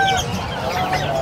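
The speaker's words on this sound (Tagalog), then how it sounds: "mga tandang, mga katsaw." A rooster at a pet market gives a short, loud call up close, with busy market noise in the background.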